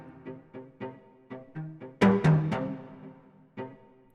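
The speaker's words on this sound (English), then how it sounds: "2 layers of these are processed spiccato multisamples." Processed spiccato cello multisamples from the Cello Ibrida instrument, run through cassette tape and Eurorack, play short, gritty bounced notes in a loose rhythm with a louder cluster of accented hits in the middle.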